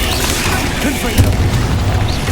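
A Confringo fire spell in Hogwarts Legacy bursts with a deep, loud boom. A heavy rumbling roar lasts the whole moment.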